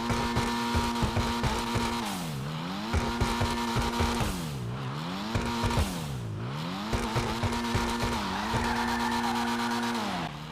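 Annis Euros sports car in GTA Online revving repeatedly, engine pitch climbing and falling in several sweeping bursts over a steady loud idle, with no talking.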